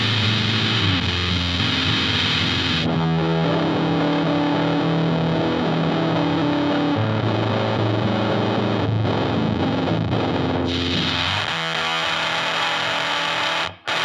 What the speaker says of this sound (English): Oh yeah, full on garage rock tone right there.